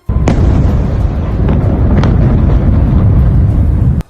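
Missile strikes over Tel Aviv and its surroundings: a loud, continuous low roar of blasts and rumbling, with a few sharp cracks and pops standing out before it cuts off abruptly.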